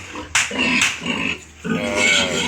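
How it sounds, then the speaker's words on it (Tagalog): A mother pig on a farm grunts loudly and close by in a short series of deep, rough grunts and snorts, with a brief pause between bursts. "Yan mga idol ang ating Mama Pig."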